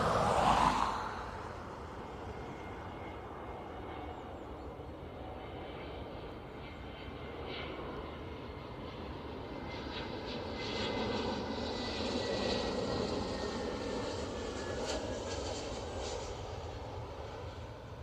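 A JetBlue airliner rumbles past at Dublin Airport, a steady, moderately loud engine roar that swells slightly midway and holds for a long stretch with no voices.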